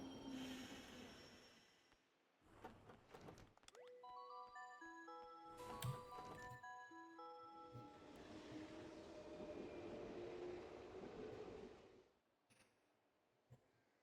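Train ride in the video game Yo-Kai Watch 2, with a steady rumbling carriage, rhythmic ticking clacks and a rising chime-like tone sequence in the middle, fairly quiet and without speech.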